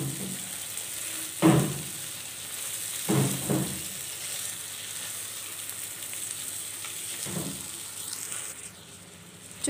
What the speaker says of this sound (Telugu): ఆయిల్ అనేది ఇలా రిలీజ్ అయ్యే వరకు లివర్ని ఫ్రై చేసుకోవాలి